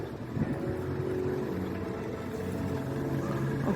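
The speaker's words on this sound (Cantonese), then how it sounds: "咁啱啱有隻船喺度，咁我就係咁開影咯。" A boat idles on the water at a pier in downtown Auckland, giving a low steady engine rumble with faint wind around it and no speech.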